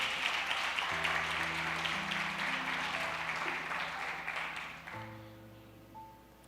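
A church congregation applauds through a steady broadband wash, with sustained keyboard or organ chords held underneath; the clapping thins and fades over the last couple of seconds.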